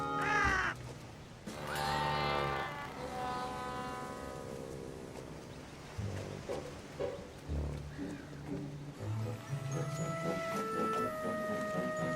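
Crows caw outdoors in a few loud, harsh calls that come in bursts, with a steady murmur of background sound between them.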